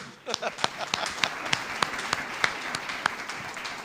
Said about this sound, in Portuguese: ajuda eu a dar uma salva de palmas ao Espírito Santo